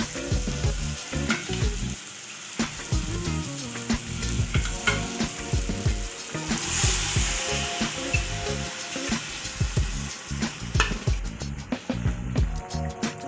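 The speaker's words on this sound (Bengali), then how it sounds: "আমি এবারে সেদ্ধ করা কাবলি চানাটা দিয়ে দিচ্ছি।" Boiled chickpeas and potatoes are tipped into sizzling chana masala and stirred: loud, continuous frying hiss with repeated scraping and clattering of a spoon against the pan throughout.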